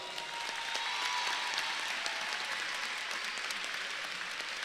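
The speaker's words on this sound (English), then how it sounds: "Let's give them another round of applause." An audience at a high school graduation ceremony applauds in a dense, steady wash of clapping that holds evenly at moderate loudness from start to finish, with no speech over it.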